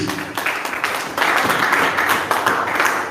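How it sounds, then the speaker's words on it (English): Church congregation applauding together after a call from the pulpit, a dense wash of many hands clapping that swells after the first second and stays steady, with faint voices underneath. "A round of applause for Jesus"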